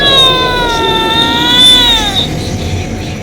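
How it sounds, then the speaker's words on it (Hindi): A cat yowls at night in a dark forest, one long loud wavering cry that bends downward and fades into a hiss of background noise. "कोई बिल्ली लगातार एक ही तरीके से रो रही थी।"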